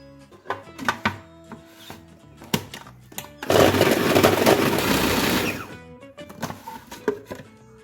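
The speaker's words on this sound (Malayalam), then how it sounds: "ഒരു ചോപ്പറിലേക്ക് നമുക്ക് ഈ ബീഫ് ഇട്ട് കൊടുക്കാം." An electric food chopper mincing beef with white pepper powder runs in one loud whirring burst of about two seconds, framed by scattered knocks and thumps of handling before and after, with no talk.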